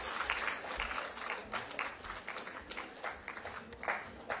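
Applause from a seated audience at a ceremony in Dehradun honouring newly appointed Anganwadi workers, a steady patter of clapping with scattered louder claps, moderately distant, without talk.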